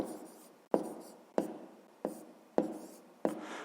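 Pen strokes writing a fraction by hand on paper: five or six sharp taps, each trailing into a brief scratchy stroke, at a steady pace, close and quiet, with no talking.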